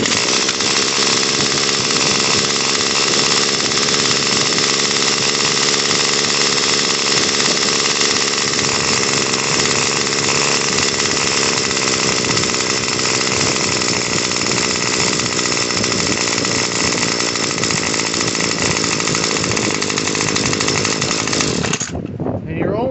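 A Remington RM2570 gas string trimmer engine runs continuously at a high idle, loud and close with a buzzing two-stroke drone, then cuts out abruptly near the end.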